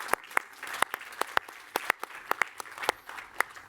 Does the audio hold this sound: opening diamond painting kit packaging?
no